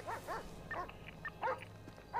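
A dog in GTA 5 gives a few quick yips and barks in bursts, fairly faint and mixed with low background hum and other game sounds.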